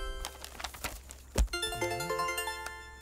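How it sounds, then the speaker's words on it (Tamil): A phone ringtone plays a bright electronic melody of repeating tones, starting after a brief thump amid faint background noise. "உனக்கு ஃபோன் வருதுடா."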